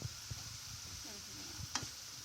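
Minced meat filling for a crispy börek sizzles softly in a pan while being stirred, with quiet scraping strokes and a faint steady frying hiss.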